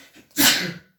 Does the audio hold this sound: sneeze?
yes